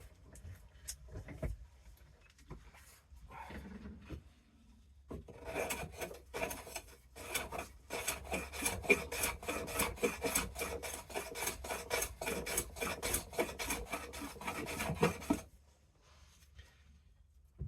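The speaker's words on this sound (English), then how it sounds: "I'm going to get a shaving from it" A clone of a 102 block plane shaves timber in a rapid series of close rasping strokes, building into a dense rhythmic run before stopping abruptly, with no talk.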